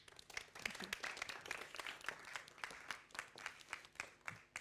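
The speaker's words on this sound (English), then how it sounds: "Big round of applause for Carolyn." A symposium audience at the FIBER Festival applauds a speaker, giving quick, distinct claps from many hands in an uneven rhythm. The clapping sounds distant and quiet throughout and is heard alone.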